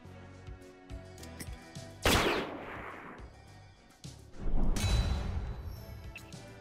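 Gunfire in the Metal Slug Tactics video game demo: two loud, sharp bursts of shots, each followed by a decaying rumble, set against quiet game background sound.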